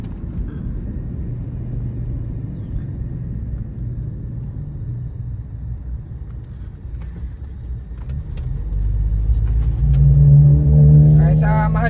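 Cars rolling along a seaside road, a steady low rumble of traffic that swells as a vehicle passes close near the end.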